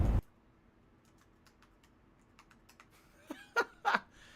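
A computer keyboard clicks in sparse, quiet taps, then a few louder clacks near the end, close to the mic in a quiet room, with a brief loud burst at the very start.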